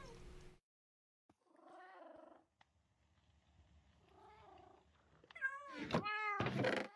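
A cat in Minecraft gives a soft purr followed by several meows that grow louder, the last ones drawn out and whining, with quiet gaps between them.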